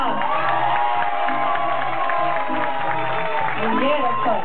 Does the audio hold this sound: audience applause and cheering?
yes